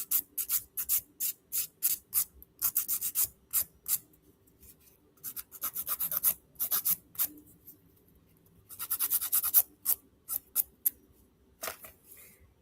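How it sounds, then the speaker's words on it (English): Acrylic nail sidewalls are filed by hand in quick, crisp rasping strokes, close and alone, coming in short bursts and rapid runs with brief pauses between them. "really going in and filing the sidewalls"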